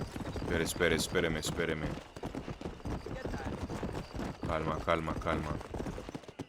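Horse galloping in the video game Red Dead Redemption, rapid rhythmic hoofbeats running steadily throughout, with someone talking over it in bursts.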